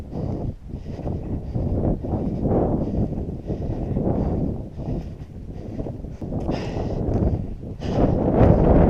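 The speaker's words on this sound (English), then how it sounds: "Oh, it's windy." Steady, heavy wind on Mont Orford buffeting the microphone with a continuous low roar and gusty surges, no clear voices.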